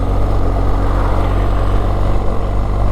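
Steady, loud engine drone from a BMW GS 1250 motorcycle while riding, a constant low rumble with wind noise that holds evenly throughout.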